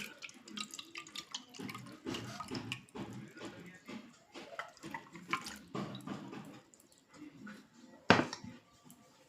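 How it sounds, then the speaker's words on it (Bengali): Water is strained through a sieve into a container for orchid care, an uneven trickle and dribble in short bursts that ends with one louder splash. "এখন আমি এটাতে জলটা জলটা ছেঁকে নিচ্ছি"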